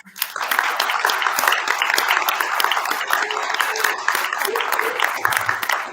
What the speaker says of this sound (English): Can we please give a round of applause to our Hohou team,